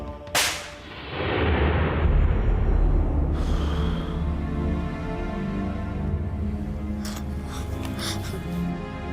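A single loud gunshot bursts out at the start, then a long booming rumble and reverberation fades away, with a few faint clicks near the end.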